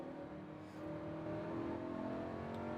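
A Lamborghini Huracan engine pulls under throttle on a race track, a steady droning growl that rises slightly in intensity. The sound is captured from inside the car and is fairly faint.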